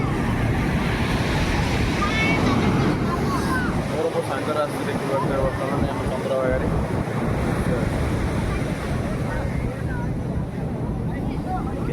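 Ocean surf at Chandrabhaga beach, loud crashing and washing waves under heavy wind buffeting the microphone, continuous throughout, with no clear talk.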